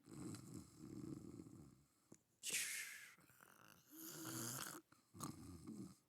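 A voice imitates a gamer snoring over a microphone: several drawn-out, rasping snore breaths with short pauses between them, close and fairly loud.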